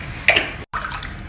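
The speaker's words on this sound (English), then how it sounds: "and add water to this." Water pours into a cooking pot of dal holding turmeric, crushed ginger, garlic and sliced onion, a short close splash and gurgle, briefly interrupted, with no voices.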